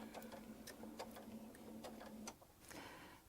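A sewing machine stitches a short seam across a mini Baptist fan quilt block, a faint, even mechanical chatter of rapid needle ticks running steadily before easing off near the end.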